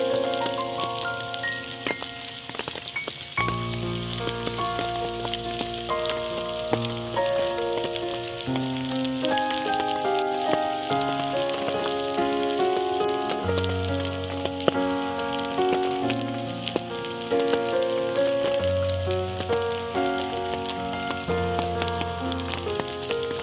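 Heavy, torrential rain pours down outdoors in a cemetery as a steady, dense hiss that runs the whole time beneath loud, continuous music with sustained tones.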